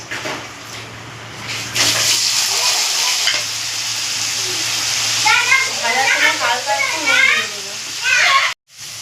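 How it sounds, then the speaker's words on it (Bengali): Cut potato pieces dropped into hot oil seasoned with whole cumin, frying with a loud bubbling hiss that swells and crackles steadily, over a faint background hum, ending abruptly. "এবার আলুগুলোকে তেলের মধ্যে ছেড়ে দেবো।"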